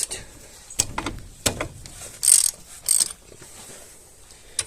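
A wrench works the 17 mm tie rod nut on a car steering rack, giving close, intermittent metallic clicks and short ratcheting bursts separated by quiet pauses.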